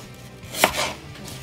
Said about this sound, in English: I'm gonna cut them in half for each slice